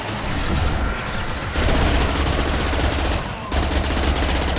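Sustained automatic gunfire in the video game Mass Effect 2, a dense, loud, continuous rattle of shots with a short dip near the end before the firing resumes.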